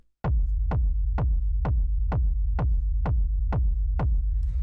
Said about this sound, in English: The first sound we have is the kick, which sounds like this.